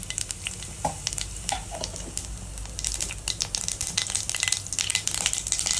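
Cumin and mustard seeds crackle and sizzle in hot oil, a dense close spitting hiss with frequent sharp pops that grows busier over the few seconds, with no talking.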